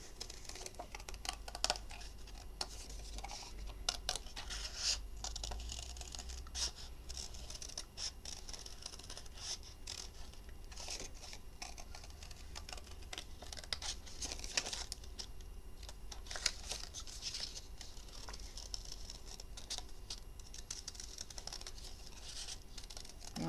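A birdhouse centerpiece is cut out by hand, giving a long run of quiet, close, irregular clicks, snips and crinkling taps over a low background hum, without speech.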